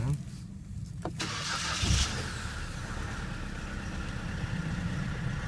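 A car engine cranks and catches about two seconds in, then settles into a steady, low idle that continues close by while a vehicle accessory system is being set up.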